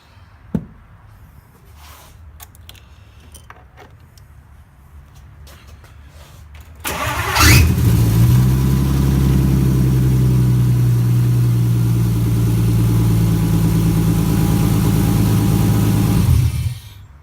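A BMW E30 wagon's turbocharged S52 engine cranks briefly on a new, very loud starter motor and fires up loudly, then settles into a steady, rumbling idle close by for several seconds before cutting off.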